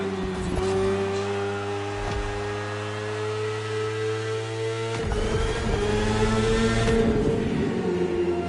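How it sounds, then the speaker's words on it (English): A BMW S1000RR superbike engine in The Crew Motorfest, a steady loud engine drone with rising and falling pitch as the bike shifts and accelerates, with a possible brief tire squeal. "You're riding is the S1000RR. It's what we call a superbike."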